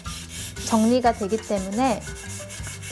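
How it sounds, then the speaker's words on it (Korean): Sandpaper rubs across the surface of a bisque-fired ceramic plate, a soft, close scraping hiss running beneath someone speaking. "이 사포로 겉표면을 깨끗하게 정리를 해주세요."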